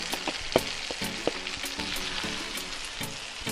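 Jamaican-style tinned mackerel fries in a pan with sauteed seasoning, giving a steady close sizzle broken by a few sharp pops and light stirring scrapes, with no voices.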